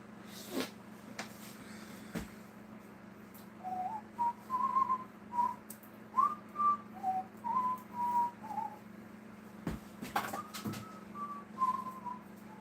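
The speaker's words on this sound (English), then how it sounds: "So I was whistling there." A person whistles a wandering tune in short melodic phrases against a steady low hum, with a couple of sharp knocks between notes.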